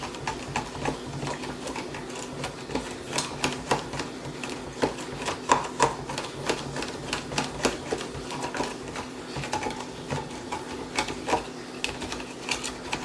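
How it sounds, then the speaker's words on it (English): A spoon stirs cinnamon into a homemade matcha green tea latte, making quick, close clinks and taps in a steady, busy rhythm with no talking. "I'll just take my spoon and mix that up"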